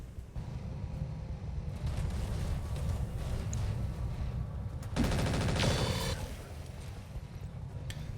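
Sustained gunfire from enemy mechs in a battle game, a steady rattling barrage under a constant rumble, swelling into a louder, denser burst near the end.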